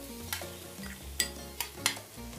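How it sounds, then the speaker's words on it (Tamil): Onions and tomatoes sauté in a frying pan with a soft, quiet sizzle. A few scraping stirs of a spoon against the pan sound close up. "இப்போ வெங்காயம், தக்காளி எல்லாத்தையும் நல்லா வதக்கணும்."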